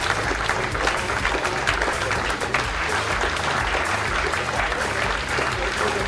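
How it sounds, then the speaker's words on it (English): Studio audience applause for rugby guests Steve Hanley, Richard Wigglesworth and Charlie Hodgson, dense and steady clapping that holds at an even level for several seconds. "And a round of applause for Steve Hanley, Richard Wigglesworth and Charlie Hodgson."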